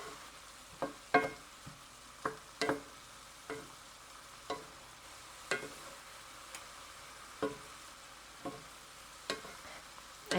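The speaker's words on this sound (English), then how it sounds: "Just stir that really good, and I'm going to cook it a few more minutes." Cabbage and sausage frying in a pan, with a soft constant sizzle under repeated light scrapes and clicks of a utensil as the food is stirred at an irregular pace, close and fairly quiet.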